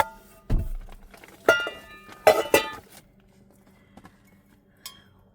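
Cookware clanks as a frying pan is handled among pots, a bowl, a mug and a glass inside an SUV, giving a few scattered metallic knocks and clinks with quiet gaps between.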